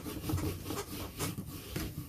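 A scrubber rubs across a rubber stamp in a few quiet back-and-forth swipes, soft and close, with no talk.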